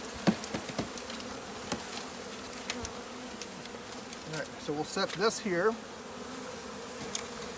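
A swarm of honey bees from a package hums continuously nearby during installation into a hive, with occasional knocks and someone speaking briefly over the buzz.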